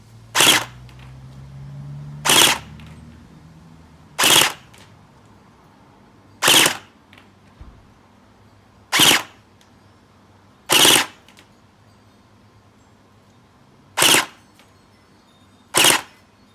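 An upgraded airsoft M4 rifle with an SS gearbox fires eight loud, sharp single shots at a steady, unhurried pace over roughly sixteen seconds during an FPS test, each crack standing alone with quiet gaps between.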